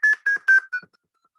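Short electronic beep-like musical notes represent particle collision counts with no Higgs present. Three bright tones and a softer fourth sound in quick succession, followed by a few faint trailing blips.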